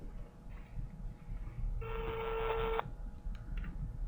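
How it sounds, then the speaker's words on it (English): A hotel phone line ringing through a call-center script system, with a single electronic ring tone lasting about a second over a faint background hum, then a few soft clicks. "still ringing now"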